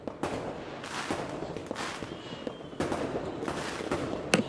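New Year fireworks in Pakistan crackle and pop at a distance, with repeated sharp bursts and a steady background rumble of scattered explosions, including one louder close bang near the end.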